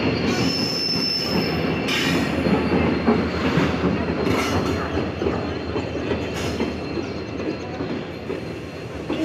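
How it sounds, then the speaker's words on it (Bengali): A train pulls into Agartala railway station with loud, continuous wheel squeal and rumbling carriages, heard close on the platform over the whole stretch, with brief high screeches and no talking. "শিলচর ট্রেন আয় করছে, আমরা সাবরুমের ট্রেন আয় করবো।"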